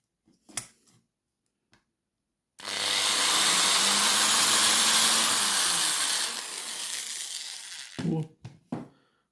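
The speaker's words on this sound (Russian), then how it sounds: "И сверлим. Сверлом соответствующего диаметра." A small drill boring a 2 mm hole in a 3D-printed plastic part, a steady high whine running for several seconds and then stopping, with brief handling clicks before and after.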